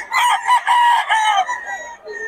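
A young gamecock (stag) crows nearby, one loud, sustained cock-a-doodle-doo with a wavering tail that fades out, heard on its own with no talk.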